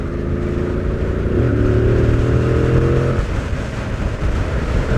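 Yamaha MT Y-AMT motorcycle riding in automatic mode, its engine droning loud and close under wind noise and rising in pitch before an automatic gear change drops the tone around the middle, with no talking.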